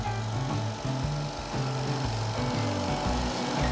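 A wood lathe turns a shaving brush handle, a steady loud motor hum with a shifting tonal drone as the tool cuts, continuous and close with no talking.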